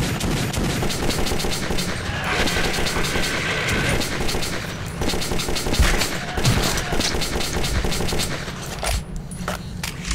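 Sustained bursts of gunfire fill a Metro 2033 video game firefight against mutants, loud and continuous with rapid overlapping shots, while a player reacts in short exclamations underneath.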